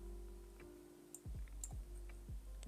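Computer keyboard keys clicked during a game development session, a few sharp, separate taps spaced irregularly, close and fairly quiet over a steady low hum.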